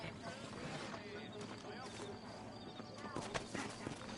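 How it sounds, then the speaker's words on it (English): Horse hooves clip-clop at a steady walking pace in the Red Dead video game, fairly faint and mixed with game ambience, with voices talking over them. "Oh, that's his horse."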